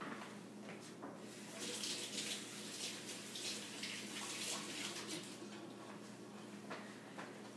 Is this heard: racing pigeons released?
no